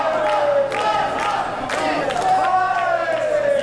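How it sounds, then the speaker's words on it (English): Spectators at a women's wrestling event cheer loudly throughout, a continuous crowd roar peppered with yells and battle-cry shouts swelling and easing around the ring. "And the crowd is loving it."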